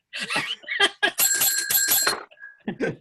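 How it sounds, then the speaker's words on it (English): A bell on a game show rings in rapid repeated dings, bright and loud, amid talk and laughter in a studio setting. "if he doesn't ring this bell soon"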